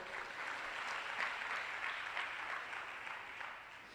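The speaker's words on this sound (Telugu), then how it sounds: "కొట్టు చప్పట్లు ఒకసారి" A church congregation clapping together during a sermon, a soft, fairly distant, continuous patter of many hands lasting several seconds.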